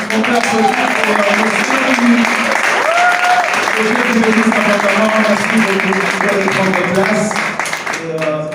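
An audience at a church talk show applauds sister Tréfina, sustained clapping from a crowd over several seconds while voices ring out above the applause.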